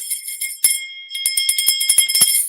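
A handheld bell rung to celebrate a homeschool win, a light tinkle followed by a run of rapid, bright, shimmering rings, close-up with no voices.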